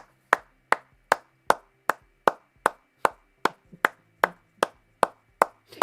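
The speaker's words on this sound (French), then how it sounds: "un petit coup d'applaudissement" Slow, evenly spaced single claps in a studio, about fourteen sharp hits at a steady rhythm, close and crisp against a quiet background.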